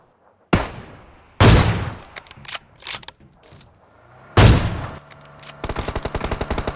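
Gunfire from an AWM sniper rifle in PUBG Mobile, with two loud, sharp booming shots and mechanical bolt-action clicks between them, ending in a rapid rattling burst of automatic fire.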